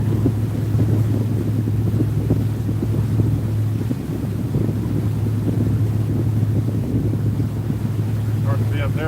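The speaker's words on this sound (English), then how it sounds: "Good, this wind getting in behind us." Wind blows steadily behind a moving boat under way, a constant close rushing and buffeting over a low engine hum, loud and unbroken throughout.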